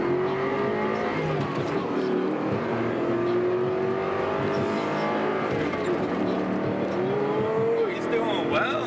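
A Ford Mach 1 Mustang fitted with a new chip races from a stop, engine revving hard with rising gear pulls and tire noise, while excited voices talk and cheer over it.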